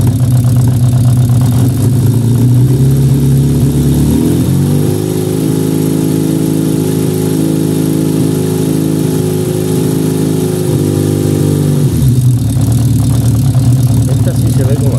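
Car engine held at a steady raised rev for several seconds, stepping up from idle and dropping back, loud and close throughout, with a Colortune plug fitted to check the air-fuel mixture.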